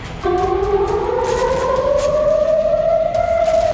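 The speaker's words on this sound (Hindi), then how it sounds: "तेल अवीव और दूसरे इलाकों में लगातार सायरन बज रहे हैं।" Air raid sirens in Tel Aviv wail steadily, a long rising tone with layered harmonics sounding close and loud over a low background rumble.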